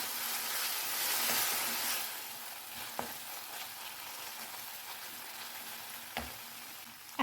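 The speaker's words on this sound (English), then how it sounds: "Cook this till the tomatoes become soft." Chopped tomato frying in a pan for green moong dal, a steady close sizzle with occasional soft stirring knocks throughout, no voices.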